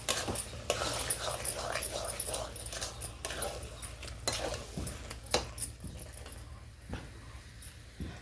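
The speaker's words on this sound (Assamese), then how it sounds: "আৰু এতিয়া মই কচুখিনি অলপ লাৰি দিছোঁ।" A utensil stirs taro in a pan with scrapes and clinks at an uneven pace. A soft sizzle of frying runs underneath, and a person talks over it.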